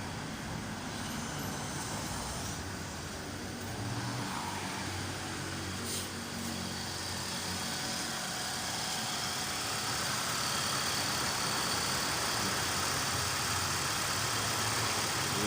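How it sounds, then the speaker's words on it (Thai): A steady, smooth car engine hum runs throughout at a constant level, with a faint background of road noise and no voices. "เครื่องยนต์นิ่งกริบเลย"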